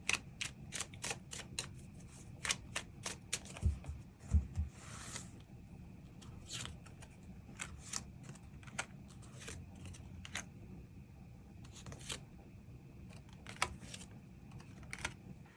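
Tarot cards shuffled and drawn at close range, a rapid run of crisp riffling clicks and flicks followed by sparser card snaps over a low room hum, no talk.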